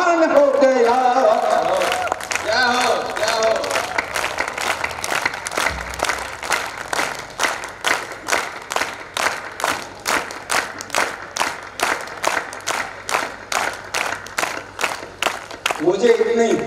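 Audience applause at a Hindi poetry gathering during a Dussehra fair kavi sammelan in Banswara, a dense steady wash of many hands clapping that swells loud and holds for long seconds, with voices mixed in near the start and end.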